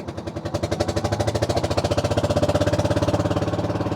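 A trawler boat's engine chugs loud and close with a steady, fast pulsing rhythm as the boat pushes against a strong hill-stream current on clear water near Jaflong.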